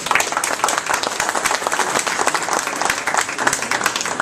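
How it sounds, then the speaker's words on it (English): Lively crowd applause at an evening political forum, many hands clapping in a thick, steady wash with sharp individual claps standing out, loud and continuous for the whole stretch. "So let's give him a round of applause."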